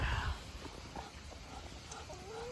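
Chickens and ducks fed and let out of a coop, with busy clucking and scattered calls over a steady background of rustling and movement, fairly close.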